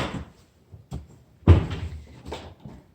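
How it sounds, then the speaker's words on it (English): A small door on an air fryer basket pops open with a sharp plasticky clack, followed by a few lighter knocks and rattles, close by and alone. "Just pop open the little door"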